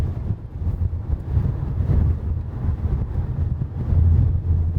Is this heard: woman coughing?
no